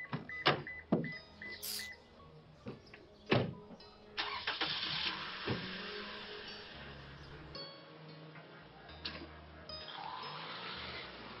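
A car door thuds and some clicks sound, then an engine cranks and starts, settling into a steady idle with a few more clunks.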